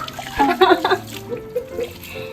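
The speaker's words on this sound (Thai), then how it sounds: "เปิดน้ำแรงไป ไม่เต็มสักที" Tap water runs strongly into a giant African bullfrog's tank during cleaning, a splashing gush up front that settles into a softer flow, with faint background voice.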